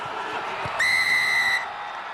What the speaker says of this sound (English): but the referee's whistle has spoilt it